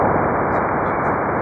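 Radio signals recorded by a satellite orbiting Saturn come through as a dense, steady wash of hissing static, loud and even throughout, with a few faint higher crackles on top.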